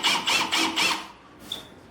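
A cordless drill with a 14-position clutch runs briefly in standard drill mode, four quick rhythmic whirring bursts close up, then a short faint high whine before it stops.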